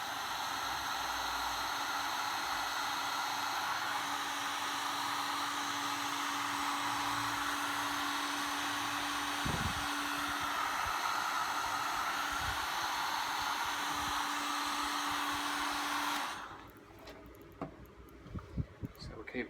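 Heat gun blowing steadily on a broken sand filter lateral pipe, a loud continuous airy roar that holds for about sixteen seconds before cutting off abruptly, leaving faint clicks and handling noises.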